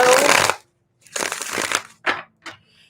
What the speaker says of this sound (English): All right, one more shuffle for Leo.